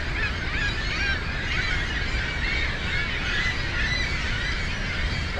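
A large flock of birds at Niagara Falls State Park honks continuously, a dense, unbroken chorus of many overlapping calls at steady loudness with no pauses.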